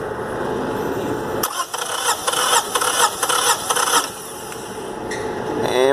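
A car engine cranks on its starter during a compression test, a steady rhythmic churning with a high squeal running loud and close throughout, no voices over it.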